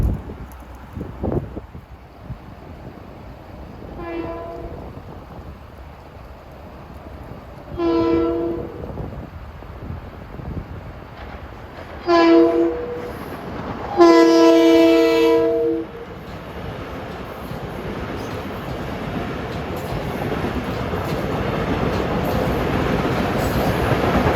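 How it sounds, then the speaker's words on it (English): A New York to Ronkonkoma revenue train passes with a loud rumble and clatter. Its horn sounds in several separate blasts, the last long and strong, and the wheel noise lingers afterward. No voices are heard. "It's a New York to Ronkonkoma revenue train."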